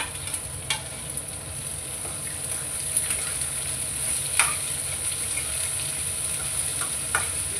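Onions frying in a pan after curry leaves, for a Kannada-style palya dish; a steady low sizzle with scattered crackles and faint stirring, no talking, holding at moderate level throughout.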